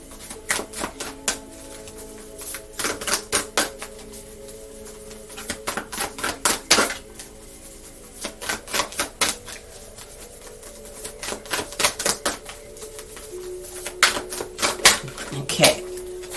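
Oracle and astrology cards being shuffled and drawn from a deck, producing crisp clicking and flicking bursts up close, with a quiet voice speaking in the background.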